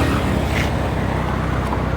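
A motor vehicle drives along a Pattaya street at night, a loud, steady engine drone and road rumble close by with no talk.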